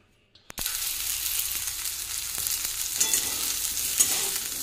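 Cauliflower pieces fry in a pan of oil, a soft, steady sizzle starting abruptly after a brief quiet moment and then continuing evenly, with a few faint clicks.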